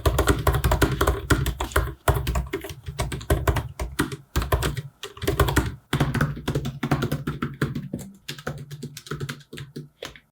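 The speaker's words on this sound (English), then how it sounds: "Typing on this keyboard is fantastic, since it feels almost identical to my old Mac, but somewhat snappier" Rapid, close-up typing on a 2021 16-inch MacBook Pro keyboard, with bursts of crisp key clicks separated by short pauses and no voices.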